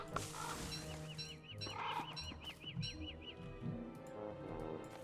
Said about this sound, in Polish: I don't like birds.